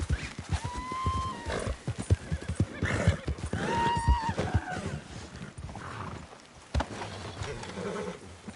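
A horse whinnies twice in quick succession over a busy clip-clop of hooves, with further scuffling and hoof noise afterward, in the video game Red Dead Redemption 2.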